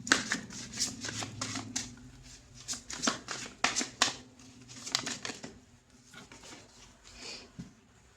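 A tarot card deck is shuffled by hand, giving rapid repeated riffles and flicks of cards close up, in uneven bursts that thin out toward the end.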